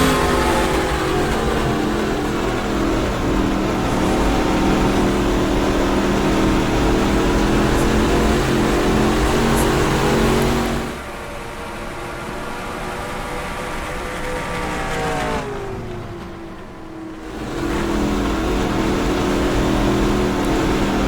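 NASCAR Modified race car engine in the NR2003 racing game, a loud continuous roar that holds steady, dips briefly near the middle and again later, then returns at full volume.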